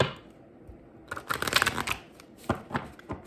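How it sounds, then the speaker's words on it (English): Tarot cards are shuffled by hand in a quiet room, with a soft riffle in the first second, then a dense burst of flicking and slapping, and a few sharper taps near the end. "Let me shuffle this ones."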